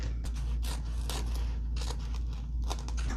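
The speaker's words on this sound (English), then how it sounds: "Let me trim the edges really quick." Scissors trim the edges of a sheet of paper in a quick series of close, crisp snips and scrapes, with no voices.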